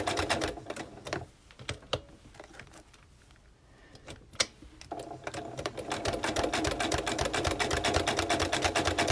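Sewing machine running a steady, rapid top stitch about an eighth of an inch from the edge of a fabric tea caddy, starting up after a quiet pause and then whirring continuously and loudly close by.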